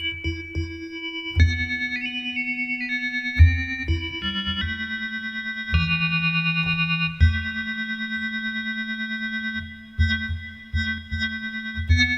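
Mellow electric piano tones from a KORG NTS-1 synthesizer play sustained chords and short melodic notes, with a low bass note pulsing underneath and a slight electronic shimmer.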